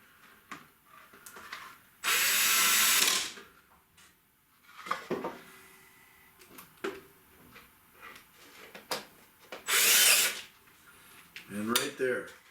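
A power drill drives screws into pre-drilled Palram Palight plastic board. Two short, loud whirring bursts and a few clicks and knocks of handling come between moments of quiet, and someone speaks briefly near the end.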